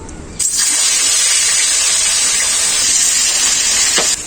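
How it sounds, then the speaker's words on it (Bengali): Fish hits hot mustard oil in a pan and a loud, steady sizzling hiss starts abruptly after a short quiet moment, holding close and constant until it drops away near the end. "তেলটা খুব ভালোভাবে গরম হয়ে গেছে তেলের ধোয়া উঠে গেছে এখন আমি মাছটা ভেজে নেবো"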